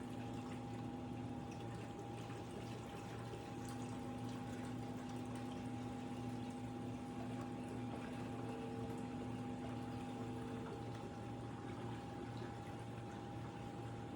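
Ninja Slushi machine churning low-sugar frozen margaritas, a steady motor hum with liquid sloshing that runs unbroken at an even level throughout, with no talking.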